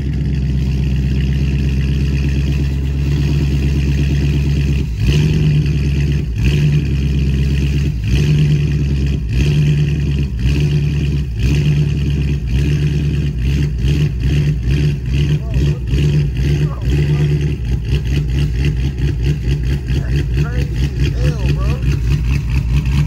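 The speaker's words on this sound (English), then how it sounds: "Y'all just gonna hear the car like idle real rough" A Dodge SRT 392 with an aggressive cam idles rough and choppy, its loud lumpy exhaust loping in uneven pulses with occasional blips, while someone talks over it.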